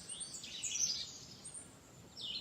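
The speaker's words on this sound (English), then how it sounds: "the love songs of the birds you hear" Faint birdsong drifts in from a distance, a few high chirping phrases rising and fading over quiet background hiss during a calm summer yoga session.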